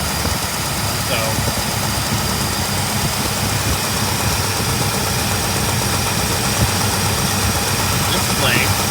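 A 1964.5 Ford Mustang convertible engine idles roughly on a gummed-up carburetor, a loud, continuous uneven rumble close by for the whole stretch.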